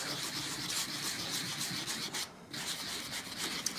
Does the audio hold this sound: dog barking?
no